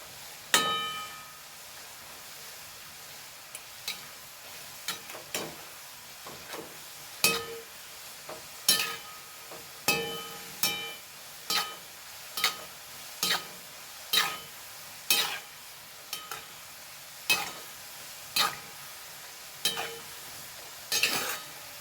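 Jackfruit chips frying in hot oil, a steady sizzle broken by regular metallic scrapes and clanks as a utensil stirs them in the pan, repeating every second or so.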